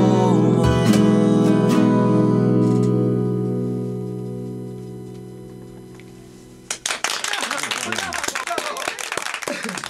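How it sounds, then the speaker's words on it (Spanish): A sustained chord of live music fades away, and then an audience breaks into lively, continuous applause that carries on to the end. "Los aplausitos."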